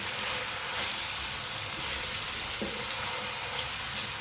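Onions frying in oil as they are stirred for chicken pulao, a steady, faint hiss of sizzling with soft scraping from the mixing and no voices.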